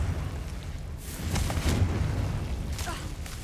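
In Hogwarts Legacy, a Confringo blasting spell erupts in a muffled burst with crackling, popping debris over a steady game rumble, followed by a second fainter flare of crackle.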